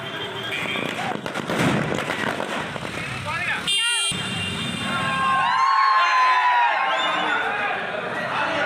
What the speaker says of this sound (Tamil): வெடி வெடித்து உற்சாகமாக கொண்டாடினர்